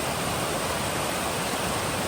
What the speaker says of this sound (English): I don't know how active this waterfall is in later in the year, but right now it is raging.